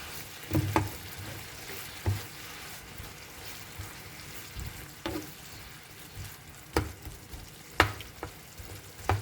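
Small shredded chicken pieces drying out and frying in a pan for taco filling, a soft steady sizzle with occasional sharp scrapes and clinks of a utensil stirring, no talk.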